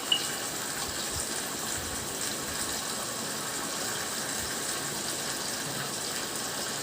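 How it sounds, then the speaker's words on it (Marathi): Water is poured into a pot for chicken soup in a kitchen, giving a soft, steady splashing gush that runs continuously at a modest level, with no talk. "यामध्ये आता आपण पाणी घालूया।"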